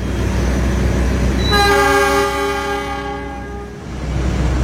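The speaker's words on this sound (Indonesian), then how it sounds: "kereta api Taksaka diberangkatkan kembali dari stasiun Purwokerto" The Taksaka train pulling out of Purwokerto station sounds a loud, sustained horn blast of about two seconds over a constant low rumble of rolling stock.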